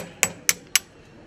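A farrier's hammer strikes horseshoe nails on a draft horse's hoof, three sharp metallic taps in quick, even succession, close and loud.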